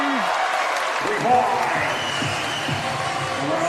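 Arena crowd cheering and applauding after a made shot at a professional basketball game, a steady roar throughout with a commentator talking over it.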